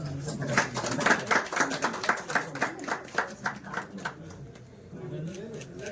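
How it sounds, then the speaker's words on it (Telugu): Scattered audience clapping at a municipal chairperson swearing-in ceremony, a run of distinct claps at moderate distance that thins out and fades, with talking underneath. "అందరూ చప్పట్లు కొట్టండి"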